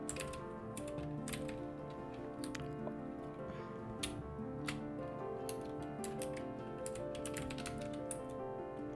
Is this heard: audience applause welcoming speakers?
no